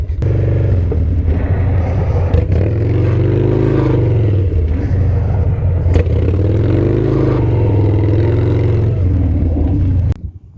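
A Harley motorcycle engine drifting on pavement, loud and close, revving in long rising and falling sweeps for about ten seconds before cutting off abruptly.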